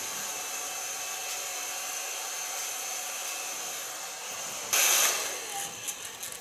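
Hair dryer blowing steadily during a nape-shave and recolouring session, a constant close whooshing drone that swells louder near the end, with no talking.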